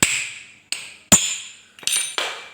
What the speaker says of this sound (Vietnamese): Rồi chúng ta đóng bạc đạn ra.